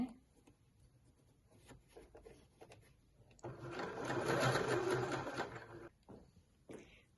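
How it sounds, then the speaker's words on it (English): A sewing machine runs in one steady burst of about two and a half seconds, basting a gathered dress bodice to its skirt, with quieter handling and fabric rustle before and after. "sewed, basted together my bodice and my skirt"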